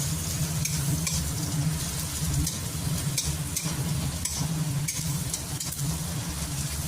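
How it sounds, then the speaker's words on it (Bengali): Chopped onion frying in hot oil with whole cumin and whole garam masala for chicken rice, a steady close sizzle with stirring throughout and no voices. "তারপরে ওই তেলের মধ্যে আমি গোটা জিরে আর গোটা গরম মশলা ফোড়ন দিলাম। তারপরে আমি পেঁয়াজ কুচিটা এর মধ্যে দিয়ে দিলাম।"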